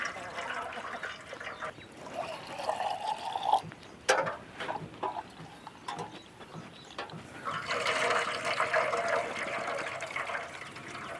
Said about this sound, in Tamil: தண்ணி ஊற்றி கல் இல்லாத மண் இல்லாத களைஞ்சி எடுத்துக்கலாம்.